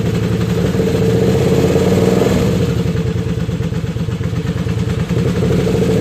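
A two-cylinder motorcycle engine runs steadily on both cylinders, loud and close, with a throbbing idle, mechanical clatter and a slight rise in revs early on.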